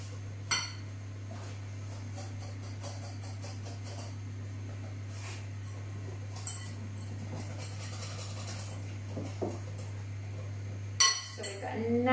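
Psyllium husk being mixed into a vegan ricotta wrap batter: a utensil clinks and scrapes against a bowl in sparse, light taps over a steady low hum, with a sharper clatter near the end.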